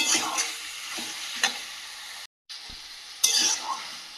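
Meat frying and being stirred on low flame, with a lid put on and off between stirs: close sizzle with spatula scrapes, a brief silent gap, then a sharp clatter as stirring resumes.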